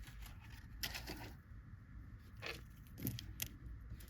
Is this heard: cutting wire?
yes